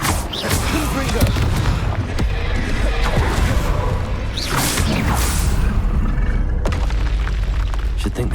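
A Confringo fire-spell explosion in the Hogwarts Legacy video game roars as a dense, loud, continuous blast and rumble with whooshing bursts throughout and occasional sharp impacts.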